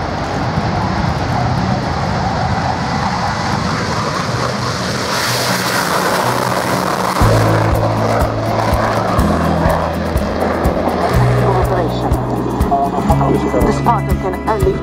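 Aircraft taking off at the RIAT airshow at RAF Fairford, a loud sustained engine roar and rumble holding steady throughout, with tonal drones joining midway under steady outdoor noise.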